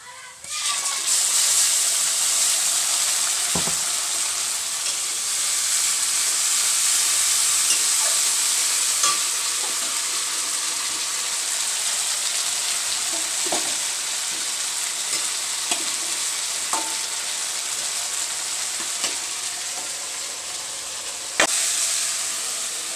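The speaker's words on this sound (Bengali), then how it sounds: "এদিকে আলু উচ্ছে ভাজা হচ্ছে, হতে থাক" Potato and bitter gourd fry in a pan, a long, loud, steady sizzle and hiss close by, broken now and then by sharp clicks and knocks of a utensil.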